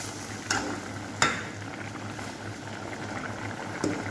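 A pot of mutton curry boils on a gas stove in a home kitchen, a quiet steady bubbling simmer with a few soft clinks or spoon taps, close by and without voices.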